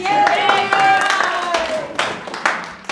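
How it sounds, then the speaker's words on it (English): Clapping from an audience welcoming Rob at a live presentation, a patchy burst of handclaps with some talk and crowd murmur mixed in, fading toward the end. "how about a round of applause for Rob?"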